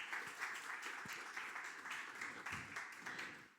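Applause from an audience at a church gathering, a steady broadband patter of many hands that holds even and continuous from start to finish, with a few louder individual claps.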